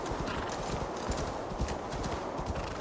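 Horse hooves clip-clop at a steady gallop in the video game Assassin's Creed Valhalla, dense and continuous across the whole stretch, with brief whinny-like bursts over a constant game background.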